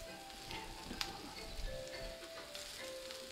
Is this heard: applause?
no